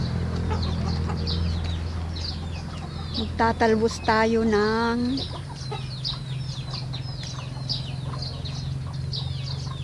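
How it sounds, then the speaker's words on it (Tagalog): Chickens cluck and chatter nearby, with a louder squawking call in the middle, while a person talks briefly over a steady background hum. "Ang daming manok, oh."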